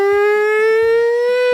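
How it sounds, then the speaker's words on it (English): A wailing siren effect from a Final Fantasy VI music track in a video game, one loud, sustained, harmonically rich tone holding steady throughout, with faint low thumps under it. "The siren effect."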